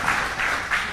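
An audience in Chicago applauds continuously, a dense, fairly loud wash of many hands clapping that swells slightly in waves without any voices.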